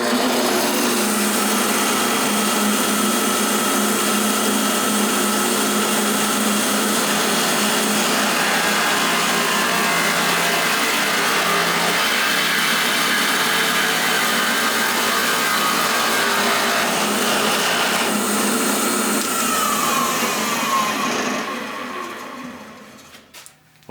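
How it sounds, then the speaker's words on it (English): A drill press whines steadily while a carbide-tipped bit bores into a wooden guitar body, a long continuous grinding drone that winds down and stops at the end. "last machining step is the drill press"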